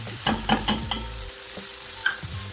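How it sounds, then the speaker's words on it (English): Half a sliced onion sizzles in a frying pan, with a few sharp stirring scrapes near the start and a steady frying hiss underneath, no voices. "I'm just going to go on and throw the onions right on in there"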